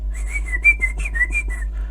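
A person whistles to imitate a man whistling while calling for someone, giving a quick run of about ten short, bright, evenly spaced whistled notes, close and clear over a low hum.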